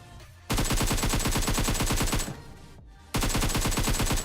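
Rapid, evenly spaced automatic gunfire in the mobile battle royale game PUBG Mobile, two long loud bursts separated by a short pause, close and dominant with no talk.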